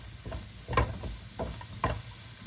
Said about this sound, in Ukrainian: І смажимо моркву